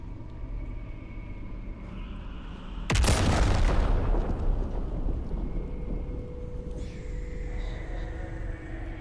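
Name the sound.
explosion in video game Baldur's Gate 3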